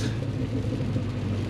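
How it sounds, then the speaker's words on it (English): A Ford Mustang passing on the left on a snowy road, heard from inside a Mini Cooper S as a steady low rumble of engine and tire noise. "Here goes a Mustang on my left."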